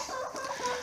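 Hens clucking softly in farm nesting boxes where they lay eggs, a steady close murmur of low clucks and trills with no talking.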